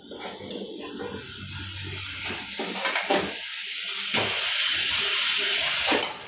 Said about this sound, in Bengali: এবার জল দিয়ে ভালো করে কষিয়ে নিচ্ছি।